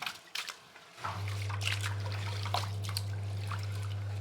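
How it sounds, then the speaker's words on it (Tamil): Water is poured over rice being washed, giving a continuous soft trickling and splashing with occasional clinks, close by over a steady low hum after a quiet start. "இந்த அரிசியை நல்லா கழுவி வைக்கணும். நல்ல தண்ணியை ஊற்றி நல்லா கழுவி"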